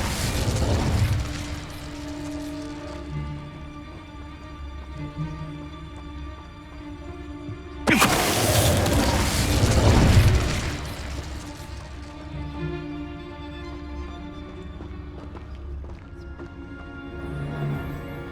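Bombarda explosive spell cast in Hogwarts Legacy, a single loud broadband blast that erupts suddenly and rumbles for a couple of seconds over steady game music and ambience.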